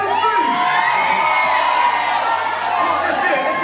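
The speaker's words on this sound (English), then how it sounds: "Cheer when it goes through." An audience at a live Brainiac show at Thorpe Park cheers and shouts loudly in a sustained crowd roar, with children's yells and whoops rising over the continuous noise.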